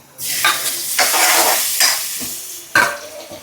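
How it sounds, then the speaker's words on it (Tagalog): Food sautés in a hot pan with loud, close sizzling bursts and stirring scrapes that swell and fade in waves, no voices. "So, gigisa lang natin."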